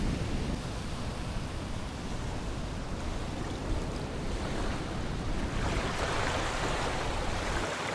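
Surf rolls in steadily on a beach shore below a tall cliff on a densely populated Vietnamese island, a continuous broad wash of breaking waves with light wind, heard from above without pause.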